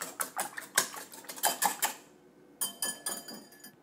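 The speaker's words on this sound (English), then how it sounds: "then I'm just gonna add in a bit of salt, a little bit of pepper, and then just whisk this all up" Eggs seasoned with salt and pepper are whisked in a bowl, a quick rhythmic series of close metallic clinks against the bowl in two bursts with a short pause between, and no talking.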